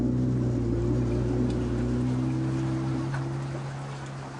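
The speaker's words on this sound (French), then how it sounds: "La pirogue à moteur est un outil indispensable pour pouvoir circuler." Outboard motor of a motorized dugout canoe (pirogue) in the Kuna islands of Panama, a steady low droning hum with tonal harmonics, close and constant, slowly fading toward the end.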